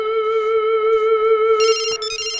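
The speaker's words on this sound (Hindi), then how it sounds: "ल इनका महबूबा के फोनो आ गेल।" Mobile phone ringtone playing loud and close, a sustained electronic melody with bright tonal notes that shift partway through.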